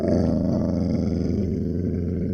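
Recorded wolf growl once mistaken for Bigfoot: a deep, loud, continuous rumbling growl held alone, close and steady throughout.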